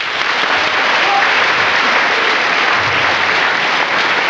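An audience at a fan convention talk claps in a sustained burst of dense applause that fills the room evenly from start to finish.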